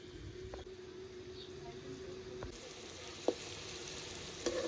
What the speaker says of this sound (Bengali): ওই বড়াগুলো এবার এক এক করে ভেজে নেব।